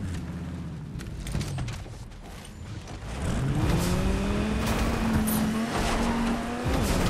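The boss car in Fortnite drives hard, its engine droning loud and close with rising revs, tire squeals and skidding scrapes across the whole stretch, no voices.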